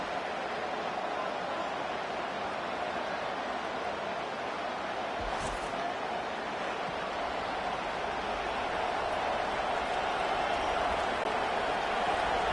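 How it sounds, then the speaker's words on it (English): A stadium crowd roars in the video game EA Sports College Football 25 during an Ole Miss Rebels versus LSU Tigers game, a constant, dense wash of cheering noise that swells slightly toward the end. "Listen to this crowd just shaking the girders of this place, trying to help their defense."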